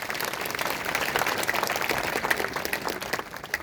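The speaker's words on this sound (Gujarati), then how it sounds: "તાળી પાડી આપણે આભાર માણીએ." A church congregation applauding during a Catholic Mass, dense sustained clapping from many hands filling the room at an even level throughout, with no voices on top.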